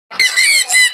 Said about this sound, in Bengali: ককাটেল পাখি দেখতে পাচ্ছেন।